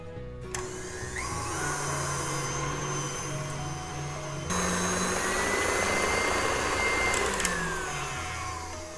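Electric mixer at medium-high speed beating a buttery dough of egg, margarine and sugar, a steady close whirring drone that rises slightly midway and runs continuously without talk.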